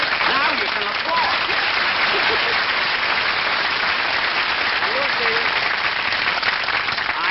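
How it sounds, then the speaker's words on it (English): Studio audience at a vintage television comedy show breaking into full, steady applause, a dense uniform wash of clapping held throughout with faint voices woven in. "Now you can applaud."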